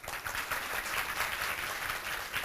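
Applause from an audience at an Independence Day event in Haridwar, a brief, faint burst of clapping.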